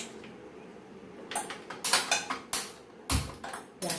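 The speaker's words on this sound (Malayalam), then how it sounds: "പാൻ അടുപ്പിൽ വയ്ക്കാം നമുക്ക് ഗ്യാസ് ഓണാക്കി കൊടുക്കാം" A pan is set on a gas stove and the burner is switched on before making an egg curry, giving a series of sharp, close metallic clanks and clicks in quick succession, with no talking.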